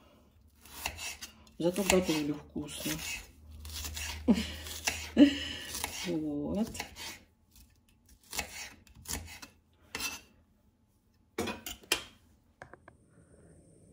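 A knife taps and scrapes against a board in irregular bursts of chopping vegetables, with a person talking briefly in Russian between the cuts.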